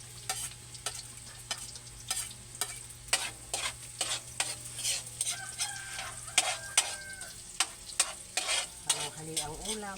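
Garlic and onion sauté in a frying pan for a tofu and pork lunch dish, with repeated stirring scrapes over a steady sizzle and a rooster crowing in the background; no one talks.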